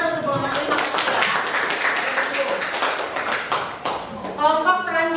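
A classroom group is applauded after presenting, with dense clapping from several people running throughout, while voices talk over the top and rise near the end.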